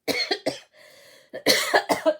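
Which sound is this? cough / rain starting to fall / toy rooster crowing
cough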